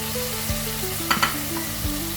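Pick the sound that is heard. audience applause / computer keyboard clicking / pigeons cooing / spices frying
spices frying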